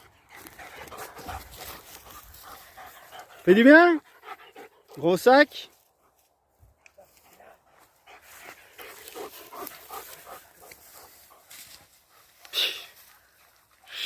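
Dogs pant, sniff and give a couple of sharp high whimpering yelps, close by, while a person talks to them quietly throughout.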